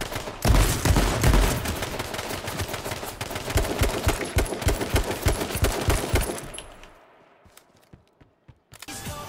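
Rapid shotgun and weapon fire in H1Z1, a dense run of loud, sharp blasts in quick succession that thins out and fades to scattered, quieter clicks and near silence toward the end.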